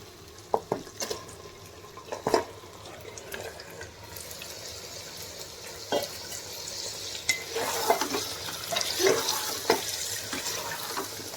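One kilo of mutton stirred in hot oil with ginger-garlic paste for a home-style biryani, soft sizzling under irregular scraping and clinking of a spoon against the pot.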